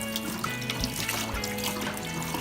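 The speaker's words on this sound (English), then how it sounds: "go through and rinse off all that stuff that we just washed" Tap water trickles and runs through rinsed sushi rice held in a strainer over a sink, a steady close, soft splashing flow with no talking.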